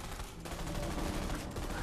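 Dense, continuous gunfire from Borderlands 3 in the Psycho Krieg and the Fantastic Fustercluck DLC, a loud sustained fusillade of rapid shots running through nearly two seconds.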